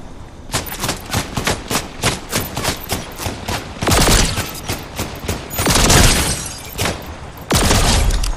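Gunfire in Fortnite Battle Royale comes as rapid bursts of sharp shots mixed with heavier booming blasts, loud and close, with no talk over it.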